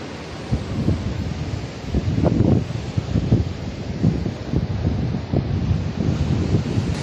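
Sea waves roll in with gusting wind on an empty beach at Imi Ouaddar, a loud, continuous rushing wash with repeated surges and heavy wind buffeting on the microphone.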